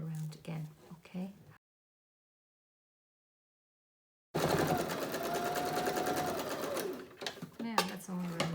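A sewing machine stitches wadding around the edges of a fabric craft piece, running in one steady, close, whirring burst after a silent gap, with soft speech before and after.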